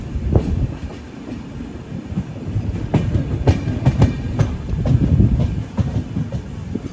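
Madgaon–Ernakulam weekly express slowing down, heard from on board as a close rumble with a run of sharp, spaced wheel clacks over the rail joints, with no voices.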